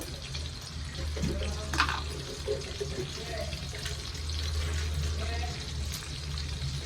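Whole cardamom pods and cloves fry in hot oil for a squid masala, giving a continuous crackling sizzle with a few sharp pops. A low hum runs underneath.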